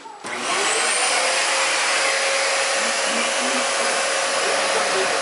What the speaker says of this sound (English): let's see if we can get this vacuum going